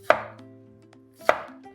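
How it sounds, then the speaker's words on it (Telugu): A knife chops boiled onions on a board in a kitchen, two crisp evenly spaced strikes close by, with no talking. "ఇలా కొంచెం కట్ చేసి మిక్సీ జార్లో వేసేయడమే."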